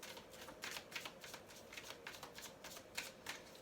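Close, crisp riffling of a deck of tarot cards being shuffled, repeated quick flicking bursts in an uneven rhythm, with no talking.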